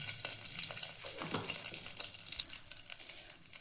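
Cumin seeds sizzling in butter and a little oil for pav bhaji, a faint, steady crackling hiss with tiny pops throughout, quiet and unbroken by speech.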